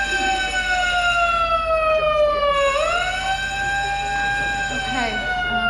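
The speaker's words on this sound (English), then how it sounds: "They got the emergency sirens going off." Emergency sirens blare in the 2016 film Arrival, a loud, close wail with slow rising and falling sweeps and one deep dip midway, while voices speak faintly underneath.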